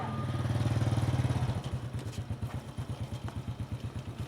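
Moped engine running close by in a steady put-put, its pitch settling after the first second and a half into a rhythmic pulsing idle, with faint clatter and no talk.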